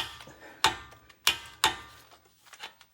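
A half-inch drive torque wrench tightens a wheel bearing bolt on a 2020 Subaru Ascent rear wheel, giving three sharp, close metallic clicks about a second apart, followed by fainter ratcheting ticks.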